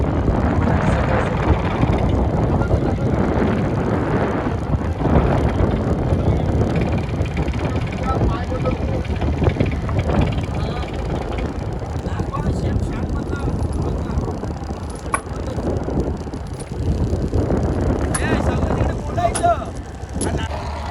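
Strong wind roaring over a fishing boat out in the deep sea off Mumbai, a loud, steady broadband rush that continues unbroken for the whole stretch.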